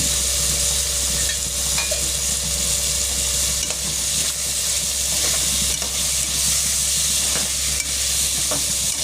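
Ginger-garlic paste, a green chili, cinnamon and fennel sautéing in a pan at home, a continuous bright sizzle and hiss with occasional soft scrapes of a stirring spoon, no voices.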